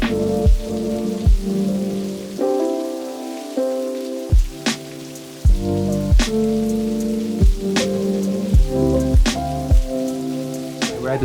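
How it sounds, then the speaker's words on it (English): Rain drums steadily on a surface nearby during a sudden heavy downpour on a boat day trip near Phuket, Thailand, with sharp drips and taps standing out at irregular intervals over a constant patter. "It just rained really fast."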